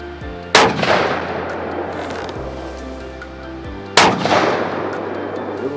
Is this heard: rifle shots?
yes